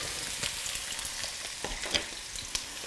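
Thin-sliced green beans and cauliflower florets sauté in a hot pan, giving a soft, steady sizzle with a few brief stirring scrapes, fairly quiet.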